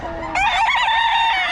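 A three-year-old White Kelso gamecock crows close and loud, one short strained call rising sharply and holding briefly before trailing off.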